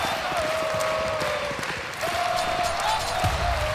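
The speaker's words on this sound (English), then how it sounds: "the crowd's getting pumped up now" An esports tournament crowd at DreamHack Masters Malmö 2017 cheers steadily in a large arena. The noise is a broad, sustained roar under game sounds and faint clapping.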